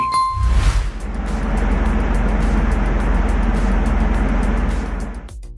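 Steady road rumble and engine hum inside a car travelling in Da Nang, Vietnam, after a brief chime at the start, with faint ticking over the constant loud drone.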